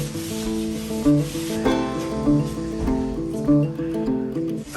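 Cloth rubbing French polish into a wooden surface in circular motions with the grain, a close, soft repeated swishing friction in an even rhythm, with no talking.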